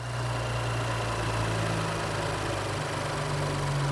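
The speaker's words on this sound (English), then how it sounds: "we do have a normal engine running here" An Audi car engine, 2018 or newer, idles steadily with a constant low hum and faint whine, even and unbroken.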